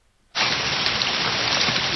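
Video game rain from the Pokémon move Rain Dance bursts in suddenly after a short silence and continues as a loud, steady, dense hiss of falling rain.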